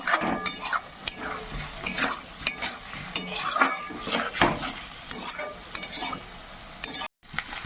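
Potatoes and spices sautéed in a pan for a fish dish, with irregular scraping and clinking stirs over a soft sizzle, close and unhurried, and a short silent gap near the end.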